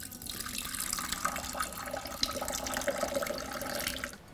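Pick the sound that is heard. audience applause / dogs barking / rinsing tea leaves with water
rinsing tea leaves with water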